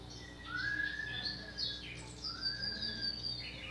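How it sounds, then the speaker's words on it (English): Several birds chirp and tweet in quick rising and falling calls, fairly close, repeating across a few seconds over a quiet background. "and I heard birds this way"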